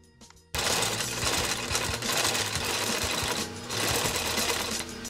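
Sewing machine stitching leather patches onto patchwork jeans runs steadily and loudly at close range, starting after a brief quiet moment and continuing with a dense, even mechanical whir and rapid needle chatter.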